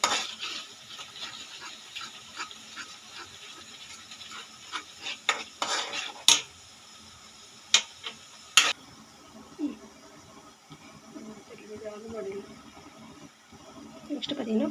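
Masala being stirred in a hot pan for paneer gravy, with frequent spoon scrapes and several sharp metallic clanks against the pan over a low sizzle, close by and with no talking.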